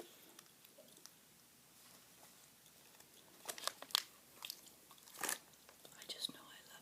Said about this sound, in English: Wrigley's fruit stripe chewing gum.